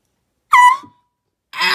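A short, loud air horn blast with a sharp tonal honk that cuts off quickly, followed by silence and the start of another burst at the end.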